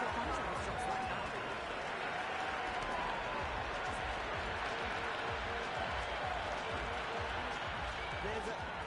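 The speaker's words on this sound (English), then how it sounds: "There's an almost tangible fervour throughout the crowd at the moment." A stadium crowd cheers and roars continuously during an India vs West Indies T20 World Cup cricket match in the video game Cricket 26, a dense wash of noise under a commentator's voice.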